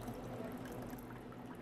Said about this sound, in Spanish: Vamos a retirar